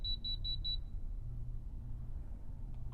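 Four short high electronic beeps from a security alarm keypad after the alarm button and star key are pressed, evenly spaced and clear over a low background hum, then quiet.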